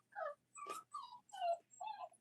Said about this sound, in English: They're growing up, so they're fighting now.